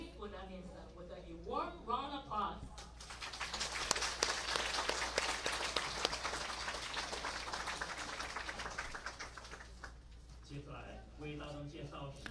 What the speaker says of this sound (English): Now let us again welcome the Dharma King of a modern era and a great adept, Living Buddha Linsen, with a warm round of applause